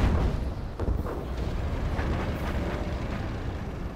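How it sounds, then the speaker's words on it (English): Artillery fire in the real-time strategy game C&C Generals Zero Hour, a continuous barrage of deep, rumbling booms and thuds rolling over one another at close range, with no voices. "artillery coming now"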